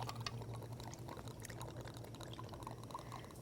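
Fresh lime juice poured into a pan on a kitchen burner, a steady soft liquid stream heard close and fairly quiet throughout, with faint kitchen background.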